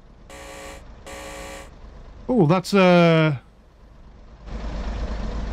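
Train guard's buzzer in the Train Sim World 4 game on the Preston to Blackpool and Ormskirk line: two short even buzzes, then a louder rising tone over a man's brief exclamation and rumbling engine noise.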